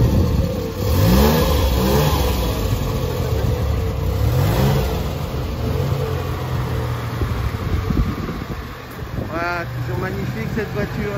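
A vintage French car, a Citroën SM with electronic fuel injection, drives past at a classic car gathering, its mid-pitched engine revving loud and near under steady commentary and crowd chatter.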